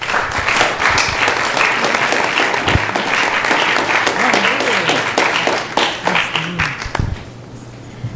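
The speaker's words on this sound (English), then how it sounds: "So please give them a big round of applause." Sustained applause from a temple audience honoring volunteers, dense clapping that holds steady for about seven seconds before thinning out, with voices and a low tonal hum running underneath.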